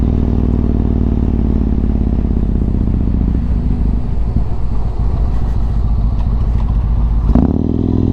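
Yamaha MT-01 motorcycle being ridden, a loud low engine drone with a steady throbbing rumble, shifting in pitch near the end.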